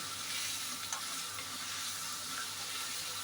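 Rogan josh sizzles in a pan with turmeric powder, a steady bright frying hiss that holds throughout at close range, with no talk over it.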